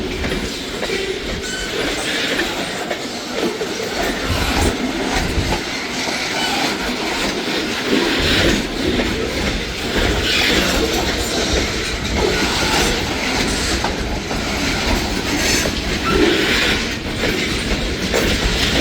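Freight train boxcars roll past on rails near Alta, a loud continuous rumble with rhythmic clickety-clack from the wheels and occasional squeal, steady for the whole stretch.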